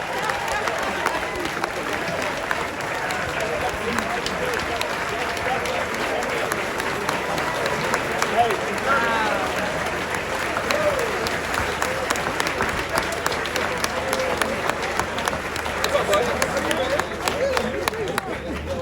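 Audience applause for the Governor at a Tennessee Speaker's annual burgers event, a steady wash of many hands clapping with crowd noise throughout, sustained and fairly loud without a break.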